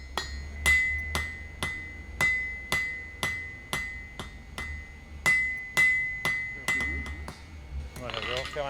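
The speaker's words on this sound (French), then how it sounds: "À partir d'une simple tige d'acier, Guy façonne un clou à 4 côtés." A blacksmith hammers a plain steel rod into a four-sided nail: a steady run of bright, ringing metal-on-metal blows about every half second, close and loud, with a voice joining near the end.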